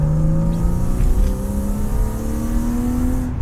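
A car engine revs hard in first gear and climbs steadily in pitch as it accelerates, loud and close, with no talking over it.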